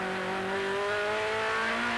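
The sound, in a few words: BMW M3 race car shifting up through six-speed gearbox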